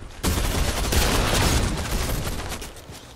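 A big gun in a Spider-Man video game unloads in a loud, sustained barrage of rapid heavy shots beginning abruptly and rolling on for about three seconds before easing slightly.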